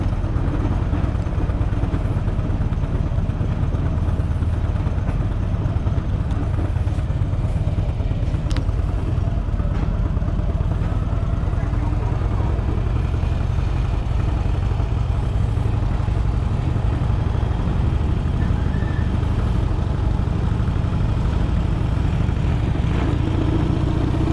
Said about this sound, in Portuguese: Todos os três estão com escapamento esportivo.